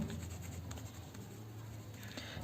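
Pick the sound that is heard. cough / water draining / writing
writing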